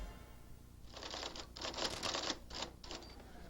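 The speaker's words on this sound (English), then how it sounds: "When I'm not on the typewriter, I'm on the phone." Keys clatter on a typewriter in a quick uneven burst of mechanical strikes, fairly faint, with a short pause before a few final taps and no talking.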